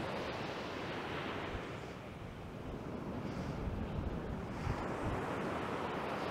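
Sea waves wash onto a beach at Budva in November, a steady broadband surf roar with gentle swells and some wind buffeting, continuous and close, no voices.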